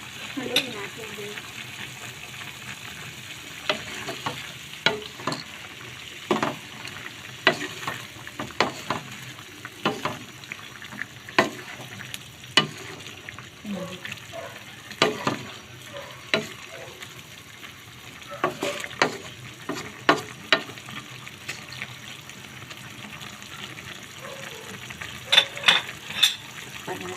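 Pork adobo frying in a pan while being stirred, with a steady low sizzle broken by repeated sharp scraping and clinking strokes at an uneven rhythm, close up and fairly loud, with occasional faint voices in the background.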